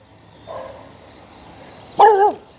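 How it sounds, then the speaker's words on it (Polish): A single loud dog bark rings out nearby in a rural village after a stretch of quiet outdoor background, with a softer whine-like sound just before it. "O, kolejny piesek."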